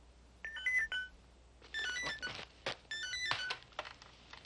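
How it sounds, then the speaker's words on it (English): Electronic telephone ringing in a distinctive priority-call pattern, several short warbling tone bursts separated by pauses, fairly quiet and heard alone. "a distinctive ringing tone for priority calls"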